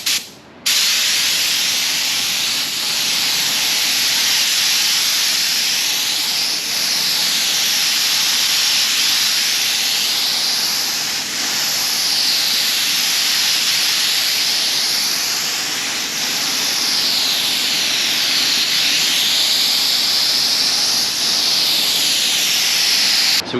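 Spray gun laying a light fiberglass tack coat, about 2 mils thick, a loud continuous hiss close by that stays steady for over twenty seconds with gentle swells as the gun sweeps back and forth.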